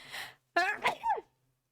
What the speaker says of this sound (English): I'm so sorry for sneezing in your ear.